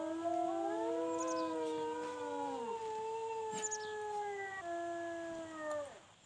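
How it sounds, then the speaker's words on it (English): Wolves howl in the WolfQuest video game, several long overlapping wailing tones rising and falling together and sustained for seconds, clear and prominent with no talk. "So let's howl."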